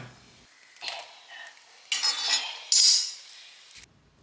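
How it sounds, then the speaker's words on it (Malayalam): Sun-dried kondattam chillies fry in a pan, with quiet stirring followed by a few sharp bursts of hissing sizzle that flare and fade in turn. "കൊണ്ടാട്ടമുളക് അത് ലേശം എടുത്ത് വറക്കുകയാണ്"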